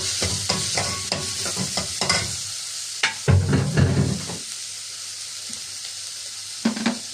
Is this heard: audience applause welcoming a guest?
no